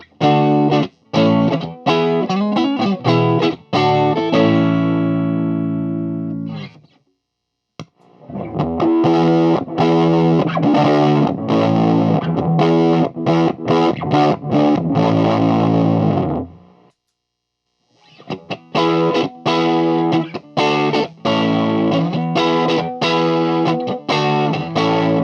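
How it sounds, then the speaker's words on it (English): Electric guitar played through a series of Ibanez Tube Screamer overdrive pedals, loud driven riffs and sustained chords in three bursts separated by brief silences, with gritty distortion leaning toward fuzz and no talking. "the orange one has a lot more drive, and it is much more pushing towards fuzz"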